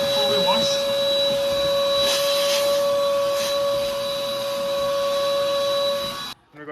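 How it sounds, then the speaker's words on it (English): Vacuum cleaner running inside a Toyota Hilux during a detailing clean, a loud steady motor whine with a strong sustained tone holding for several seconds before cutting off abruptly near the end. "We got a vacuum inside here too."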